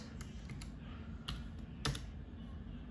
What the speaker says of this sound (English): So I will type LS